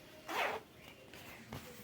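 A close, quiet rasp comes first as an invisible zipper on a sewn garment is pulled open, then a fainter tug and a small click near the end, with no talking.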